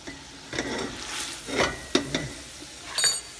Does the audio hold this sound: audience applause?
no